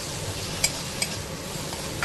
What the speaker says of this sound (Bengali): দিয়ে আবারও আমাদের নাড়াচাড়া করতে হবে।